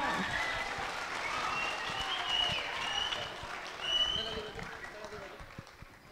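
Festival audience applauding after a performance, a busy wash of clapping and crowd noise that swells and fades with some voices mixed in.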